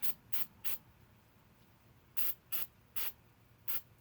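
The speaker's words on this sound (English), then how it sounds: "It's a little bit of a brake parts cleaner." Brake parts cleaner sprays from an aerosol can in eight short, sharp hissing bursts, three and then five, while fuel injectors are cleaned on a 1988 Jeep XJ. The bursts are moderately close and quiet, with no talking.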